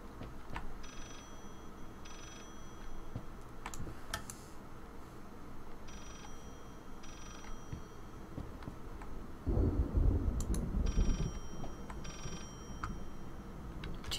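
A telephone rings in repeated bursts in the horror video game Layers of Fear, a muffled ringing pattern recurring every couple of seconds over dark ambience, with a low rumble partway through.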